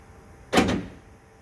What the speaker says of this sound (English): I'm going to hook up, and hopefully that lock drops down